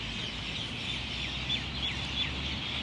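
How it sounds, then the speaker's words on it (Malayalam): Birds calling in Nad Hamar Park, a dense outdoor chorus of chirps and short clucking calls at moderate distance over a steady background hum, with no voices. "ഇവിടെയുള്ള ഈ സൗണ്ട്, കിളികളെ സൗണ്ടൊക്കെ കേട്ട്"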